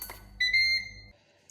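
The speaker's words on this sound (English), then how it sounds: "Okay, I've just heard the beep." A Ninja Foodi pressure cooker gives a single short electronic beep, clear and close, after its pressure release, with the room quiet around it.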